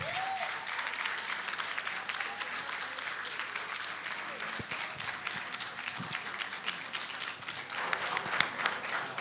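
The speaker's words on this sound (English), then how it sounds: "Please give them a louder hand clap." Sustained hand clapping from an audience at a gender and human rights moot court event, a moderate, even wash of applause with a few louder claps near the end.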